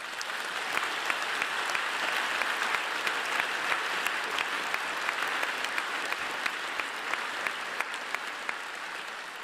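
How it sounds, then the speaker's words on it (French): Attendees at the 2025 HEP Vaud diploma ceremony applaud continuously, a dense, even patter of many hands with sharper individual claps standing out, heard from a moderate distance with no speech over it. "Merci de l'applaudir."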